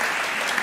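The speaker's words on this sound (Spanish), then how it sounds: "Aplausos." An audience applauds at a year-end concert, a brief dense burst of clapping heard alone, close and fairly loud.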